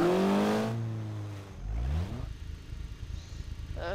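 Small car engine in the Garry's Mod DarkRP game, revving up with a rising pitch sweep, then settling into a steady rumbling idle, close and fairly loud.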